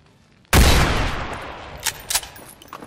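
A single loud gunshot blast erupts in XCOM 2, decaying over about a second, followed by a couple of fainter sharp cracks a moment later.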